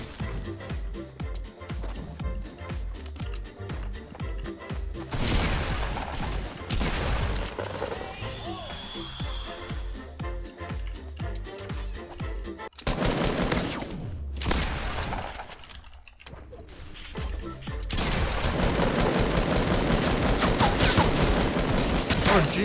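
Suppressed assault rifle gunfire in Fortnite: rapid bursts of muffled shots and dense firing, with game mechanism sounds and a sustained stretch of shooting toward the end.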